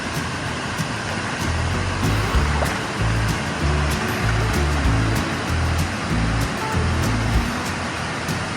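Steady roaring rush of a 115-foot waterfall in New York's Finger Lakes region, a broad constant wash of sound with faint rhythmic low thumps underneath, no voices.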